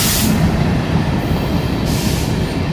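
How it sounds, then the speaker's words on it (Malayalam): A loud, steady roar of a train rushing past close by, with a dense rumble of wheels on rails and no pause throughout, near Vellayani, Trivandrum. "ഇതാ ട്രെയിൻ വീണ്ടും സൗത്ത് ഡയറക്ഷനിലേക്ക് നോർത്തിൽ നിന്നും കടന്നു വരുന്നു"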